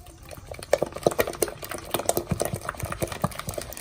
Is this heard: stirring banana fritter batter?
yes